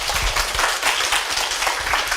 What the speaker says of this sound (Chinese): 先鼓掌一下好不好？